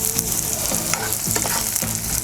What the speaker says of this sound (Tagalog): we'll have our garlic saute. Then followed by our onions.